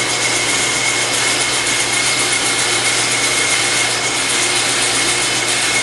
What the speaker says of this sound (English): Now I stick it in the metal lathe in the four jaw chuck